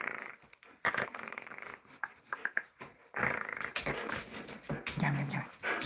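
A pet dog named Canella whimpers and whines for attention in short, uneven bursts, with soft breathing and a low growl-like murmur toward the end, close by and fairly quiet.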